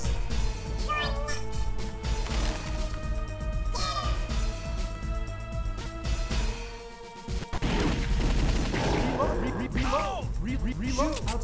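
Rapid light-gun gunfire and crash effects from an arcade shooting game played on an emulator, loud and continuous over game music with a short dip midway.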